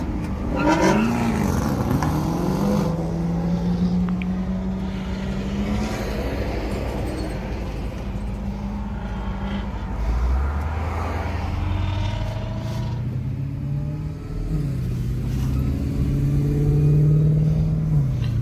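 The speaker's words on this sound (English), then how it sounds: "Full bolt on E85 Jeep Trackhawk." A full bolt-on Jeep Trackhawk running E85 fuel revs hard and close, its engine note climbing and falling in long sweeps and holding a loud, steady roar throughout.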